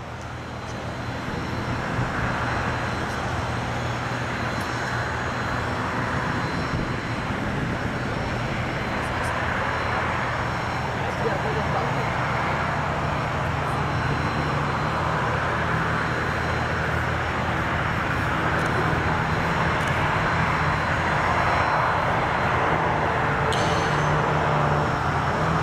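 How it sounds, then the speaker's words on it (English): Two Zlin-50LS aerobatic competition aircraft fly in mirror formation at an air show, producing a steady, sustained propeller engine drone that stays loud and fairly even throughout, with no talking over it. "running in towards us in mirror formation, a pair of Zlin-50LS aerobatic competition standard aircraft"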